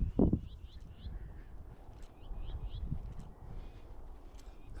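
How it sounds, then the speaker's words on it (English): Birds call in open countryside near Snaith, with repeated chirping phrases at a moderate distance over quiet outdoor ambience and a brief low thump at the start. "Just listen to the birds."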